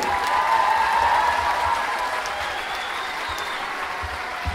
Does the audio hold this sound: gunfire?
no